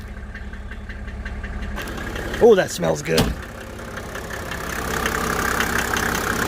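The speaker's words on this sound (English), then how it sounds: "it's always pretty loud at idle" A Mercedes-Benz W210 OM606 diesel engine idles cold, close by, with a steady, knocking clatter and a constant rumble, while someone speaks briefly over it.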